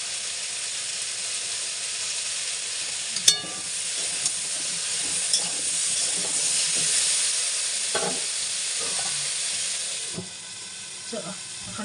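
Vegetables seasoned with turmeric and salt sizzle and hiss steadily in a pan on a home stove, with occasional clinks of a utensil stirring and soft voices in the background.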